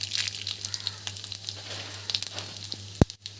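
Garlic and cumin seeds frying in a pan give a steady, close crackling sizzle with scattered pops, and a sharp clink near the end.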